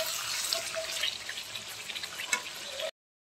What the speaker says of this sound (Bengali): এবার এর মধ্যে অল্প একটু জল দেবো